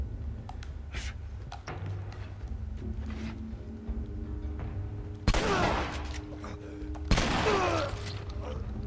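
Two sharp, loud gunshots from the video game The Last of Us, spaced a couple of seconds apart late in the stretch, over a steady game soundtrack hum and faint ambient tones.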